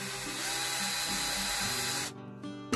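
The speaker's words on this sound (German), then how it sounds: "dann hat man hier ein wunderschönes Loch gebohrt" A power drill boring a hole through a knife handle scale, a loud continuous whine from close by that cuts out near the end, followed by a brief clatter.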